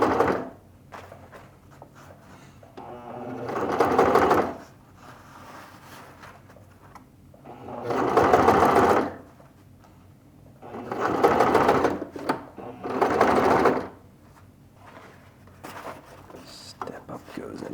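A sewing machine stitches a garment's top collar in four separate close bursts of rapid whirring, with quiet pauses between them as the fabric is repositioned.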